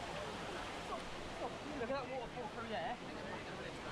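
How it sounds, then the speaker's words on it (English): Waterfall on a hillside climb near Benidorm, a steady broadband rush of falling water heard close and fairly loud throughout, with a faint voice speaking over it. "Then I spotted this waterfall up here."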